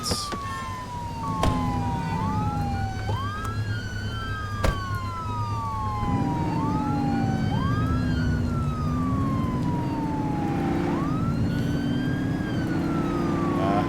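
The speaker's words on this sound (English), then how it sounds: "Why am I still hearing the siren?" A wailing police car siren in the video game The Precinct sweeps up and down repeatedly over a steady low engine rumble, loud and continuous throughout.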